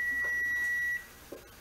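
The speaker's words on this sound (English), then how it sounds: "And my timer just went off." A kitchen timer beeps in a steady electronic tone beside an oven holding a chicken and vegetable pie in a cast iron skillet, sounding for about a second before cutting off, followed by faint kitchen noise.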